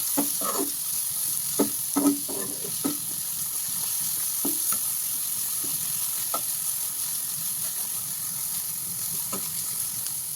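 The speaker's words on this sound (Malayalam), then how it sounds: "ഇത് നമുക്ക് നന്നായി ഒന്ന് ഇളക്കി യോജിപ്പിക്കാം." Chopped tomato is stirred into chicken curry frying in a pan, giving a steady sizzle under repeated scraping strokes of a spoon, close and fairly loud.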